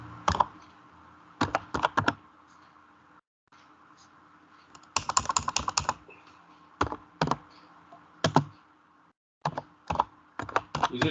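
Typing on a Logitech K120 computer keyboard comes in irregular bursts of crisp key clicks over a faint background hum, each flurry broken by short pauses.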